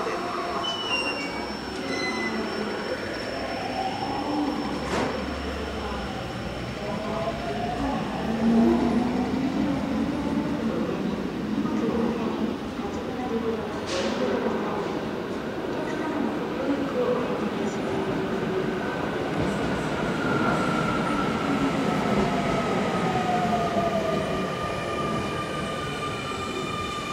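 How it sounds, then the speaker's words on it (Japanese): A ten-car Keio Line local train to Hashimoto rumbles into Inagi Station in the evening, with squealing wheels and sustained metallic tones, a steady rolling roar throughout. "各駅停車橋本行きが10両編成で参ります"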